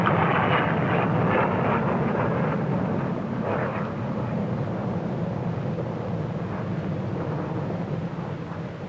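A large Victor bomber flying aerobatics at the Farnborough airshow gives a loud, continuous jet roar that swells and holds steady for the whole stretch, broad and rumbling, with no talk over it.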